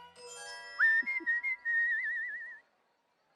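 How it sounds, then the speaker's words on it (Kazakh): A person whistles while working, a short clear melodic whistle with a rising opening and a long wavering held note, close and alone before it stops. "Ысқырған сіз бе? Иә, ысқырып жүріп жұмыс істеймін."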